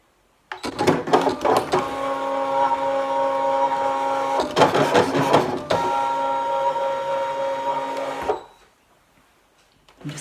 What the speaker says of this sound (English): I'm going to say cut, and I'm going to start the machine.